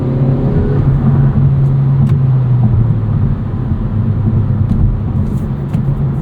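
Inside a 2024 Kia Forte GT with a dual-clutch gearbox, the engine hums and revs steadily while driving, its drone rising and easing with a few light clicks over constant road noise.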